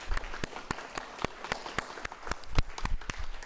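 Audience at a grand opening ceremony for a new behavioral health center and emergency department claps in a sparse, uneven patter of individual hand claps, moderately close and continuous, with no talking over it.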